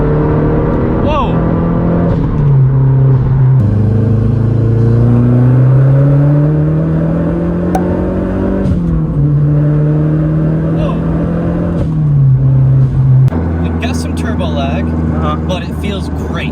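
A Mazdaspeed 3 pulls hard at full throttle, its engine note climbing loud and close through rising revs, dipping at a gear change and climbing again before the revs drop near the end, with people talking excitedly over it from inside the cabin.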